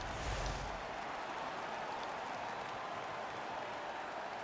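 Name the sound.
home crowd cheering in NHL video game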